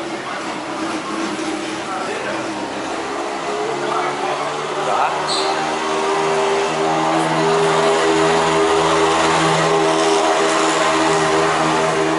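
A steady droning engine hum with propeller-like harmonics runs throughout at constant loudness, with faint background noise and no clear talk.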